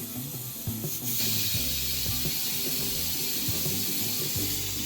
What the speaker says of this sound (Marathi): तर ही माझी लास्ट सिटी आहे आता.